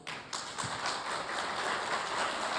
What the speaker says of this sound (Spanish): Con un fuerte aplauso recibamos a nuestros panelistas.